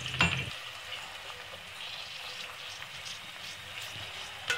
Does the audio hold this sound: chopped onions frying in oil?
yes